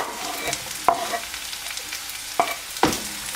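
Chopped capsicum sautéing in a pan for vegetarian ravioli filling, a soft steady sizzle punctuated by three sharp clacks of a spoon stirring against the pan.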